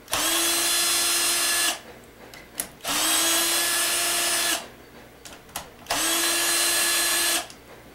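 A power drill with an adjustable clutch backs bolts out of a transaxle case, giving three long, loud whirring bursts of about two seconds each, separated by short pauses with small clicks and handling noises.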